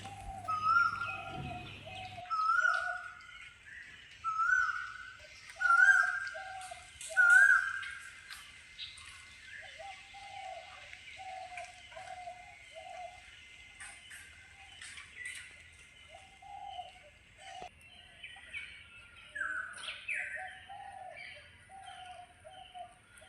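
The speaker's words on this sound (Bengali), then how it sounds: "চারদিকে শুধু পাখির ডাক" Birds call all around a forest cottage at Jaldapara by the Torsa river, with a run of loud, close chirps repeating in a steady rhythm at first, then softer, scattered calls over a quiet background.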